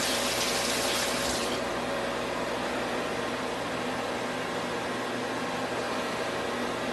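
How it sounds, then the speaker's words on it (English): Tap water runs steadily onto a serving plate as it is rinsed in a home kitchen, a constant hiss with a brighter splashing burst in the first second and a half. "You can use the same plate we're going to serve on. Just, we should rinse that off."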